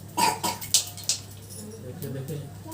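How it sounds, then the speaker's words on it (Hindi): A person coughs a few times, short sharp bursts close by, during a Satyanarayan puja ceremony amid low background murmur. "खांसी हो गया"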